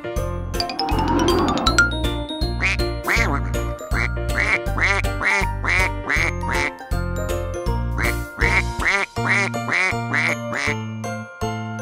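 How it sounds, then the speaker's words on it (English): A cartoon duck quacking in a children's colours song, repeated quacks in a steady rhythm over bright jingling chimes and a bouncy electronic backing track, with a chiming sweep at the start. "Duck."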